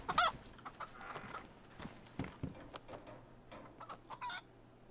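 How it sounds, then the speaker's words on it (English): A chicken clucks in the survival video game DayZ, several short nearby clucks that come in uneven bursts, with faint game noise between them. "The miraculous chicken."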